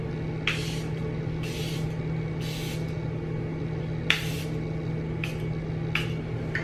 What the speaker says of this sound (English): I'm just gonna spray down my face with the Charlotte Tilbury Airbrush Flawless Satin Spray.